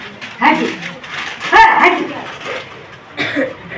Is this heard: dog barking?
yes